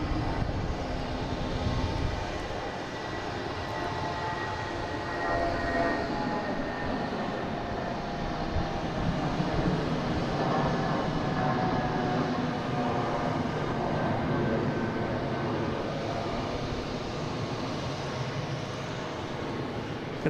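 A United Airbus A319 jet departs Boston Logan airport, its broad, steady engine roar filling the whole stretch at constant strength with no break, loud and continuous.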